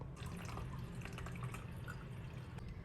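Water poured into the tank of a Philips Perfect Care Elite Plus steam iron, a faint steady trickle with small splashing drips, heard alone.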